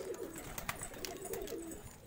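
Soft, low cooing of an Andhra pigeon repeats faintly in a pigeon loft against a noisy background, brief and muffled.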